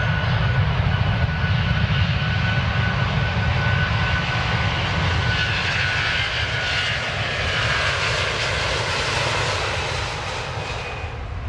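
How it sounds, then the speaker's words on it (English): A fixed-wing airliner taking off, a loud, continuous engine roar that holds steady and thunders close for the whole stretch, easing slightly toward the end. "We are ready for takeoff."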